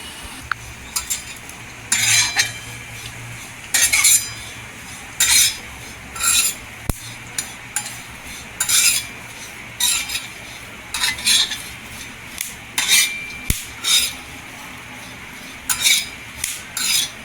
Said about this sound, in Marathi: शेंगदाणं सफेद तील आणि खोबरं आणि करीपत्तेची पानं खूप छान असा मसाला टेस्टी होतो इथे गोल्डन कलर करून घ्यायचा छान असं स्लो गॅसवर भाजून घ्यायचं